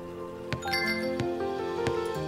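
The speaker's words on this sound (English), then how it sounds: "Lucy, you hit the bell" Bell strikes in the puzzle adventure game Children of Silentown, three or four bright chimes ringing over sustained musical tones, clear and moderately loud with no voices.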